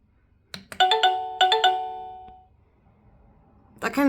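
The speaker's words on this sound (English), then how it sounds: "That kind of sounds like one of the very old Nokia notifications or alert things." Electronic doorbell playing a short ringtone-style tune reminiscent of an old Nokia alert, a quick run of bright tones followed by sustained notes that fade, then another chime starting at the end.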